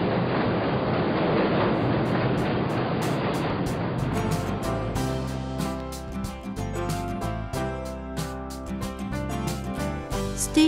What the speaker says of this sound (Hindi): आज हम सबवे लाइन 6 पर सफ़र करते हैं।